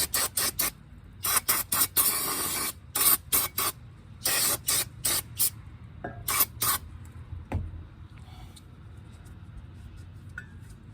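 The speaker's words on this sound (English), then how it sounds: "I'll use some more of that brake cleaner." Brake cleaner sprayed from an aerosol can onto the Brembo brake calipers of a Buick Regal GS, in a series of loud, sharp hissing bursts of varying length with short pauses between them, fading to quiet workshop noise toward the end.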